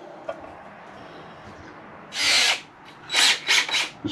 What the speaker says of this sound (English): Just going to clean the inside of the hole out with a wide brush.